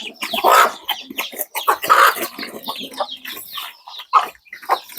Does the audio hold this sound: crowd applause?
no